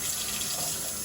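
A kitchen tap runs steadily to rinse a dish before it goes into the dishwasher, producing a soft, continuous hiss of flowing water with no speech.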